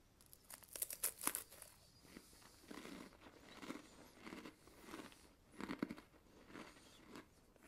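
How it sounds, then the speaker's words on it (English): Crispy lemon cream biscuits crunch as they are bitten and chewed, a series of quiet, close crackling bites repeating in bursts with short pauses between them. "The biscuit is quite crispy and it's also has a nice lemony scent to it"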